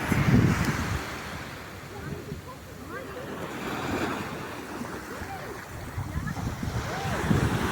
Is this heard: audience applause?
no